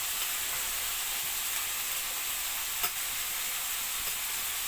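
Green beans, carrots and cabbage stir-frying in oil for vegetable fried rice give off a steady broadband sizzle, with one brief clink of the pan midway and no talking.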